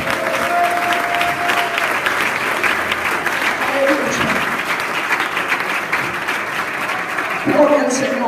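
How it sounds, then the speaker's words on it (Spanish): A congregation at a youth church convention applauds loudly for Christ, a thick, sustained wash of clapping that runs throughout, with a voice or two calling out briefly over it. "¿Cuánto se atreve a darle un aplauso fuerte a Cristo?"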